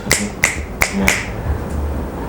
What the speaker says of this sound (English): We call it the GH clap on the street.